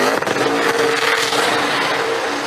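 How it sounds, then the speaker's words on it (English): A NASCAR race car doing burnouts on the Las Vegas Strip, a loud, steady engine roar with tire noise washing through, continuous and close with crowd-like noise mixed in. "Brad knows how to do some burnouts"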